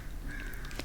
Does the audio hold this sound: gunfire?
no